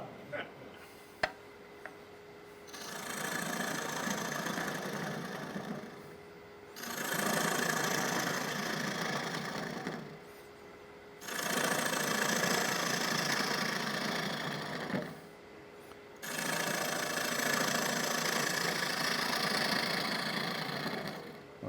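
A wood lathe turns a yarn bowl in long rough, grinding passes of a cutting tool against the spinning wood, broken by short pauses over a steady motor hum.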